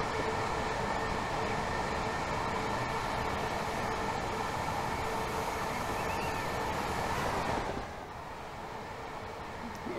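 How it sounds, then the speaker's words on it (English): Train crossing a bridge in Train Simulator Classic on the Chatham Main Line between Faversham and Dover Priory: a steady, loud rumbling rattle of wheels on rails that drops abruptly to a quieter hum near the end, with no talk. "train passing over the bridge"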